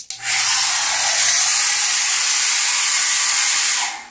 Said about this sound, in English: I'm going to take my blow dryer and begin drying this.